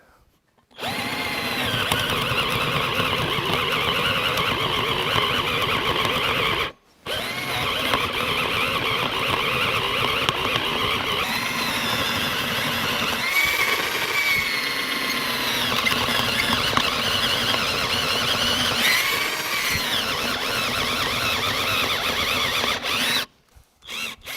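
A cheap cordless drill whines loudly and continuously with a squealing, straining tone while drilling, pausing briefly once before running on at full speed, then stopping.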